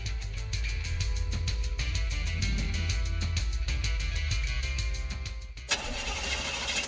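A car engine in trouble cranks with a fast, steady rhythmic chatter that does not settle into a smooth run, then cuts off into a brief hiss, heard close and alone.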